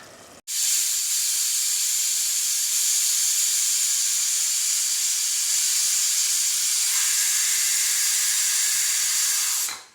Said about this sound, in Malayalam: ഇവിടെ ഒരു വിസിൽ കേട്ട് കഴിഞ്ഞു.